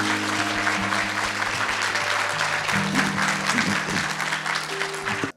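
A studio audience at a live lecture show breaks into strong, sustained applause, a broad wash of clapping with steady music tones beneath, cutting off sharply at the end.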